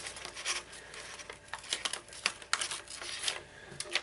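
Paper torn by hand while folding a paper airplane, a series of short crisp ripping and crinkling bursts close by, irregular across the clip with no talk.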